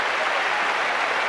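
Cricket crowd at the Gabba applauding a Test century in the 1984/85 Australia v West Indies match, a steady loud wash of clapping throughout with no speech.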